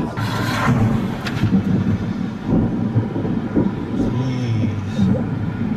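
Thunder from nearby lightning strikes rolls as a continuous low rumble with heavier bursts, mixed with steady outdoor noise of a storm.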